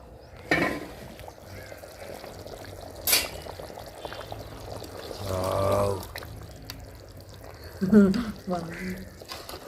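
Rice is washed and soaked in water in a home kitchen, giving a few brief pouring and sloshing bursts of water between stretches of talking.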